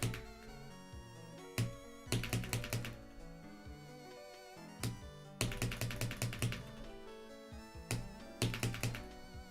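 Keyboard keys clicked in fast bursts by alternating fingers during rhythm game practice on a keyboard set to 0.3 actuation, with irregular clusters of sharp, close clicks and short pauses between runs.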